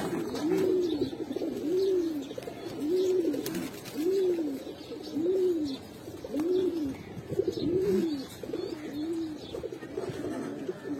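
Pet pigeons, including green-necked breeds kept for sale, give a steady series of about eight rhythmic cooing calls, evenly spaced and moderately close over light background noise.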